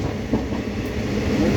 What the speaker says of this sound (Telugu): ఐసీఎఫ్ ట్రైన్ అయినా కూడా 120 స్పీడ్ పట్టుకున్నాడు